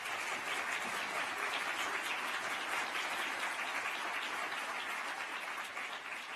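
An audience applauds during a speech, steady, fairly distant clapping that holds evenly throughout and thins slightly at the end.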